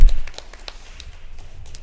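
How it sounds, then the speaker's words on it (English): A conference audience applauds a panel at the 2023 ISSRNC gathering, with scattered hand claps blending into a steady wash of clapping that stays fairly even for the short stretch. "Give our panel a warm round of applause."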